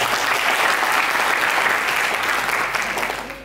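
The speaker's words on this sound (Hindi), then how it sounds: "उन सारे लोगों के लिए भी एक मरतबा ताली बजा दें" Audience applause at a toppers award ceremony for an English academy, a steady wash of many hands clapping close and loud for about three seconds, then fading at the end.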